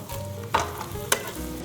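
Mongolian beef with scallions stir-fried in a pan, heard as continuous close sizzling with a couple of sharp scraping clanks from stirring.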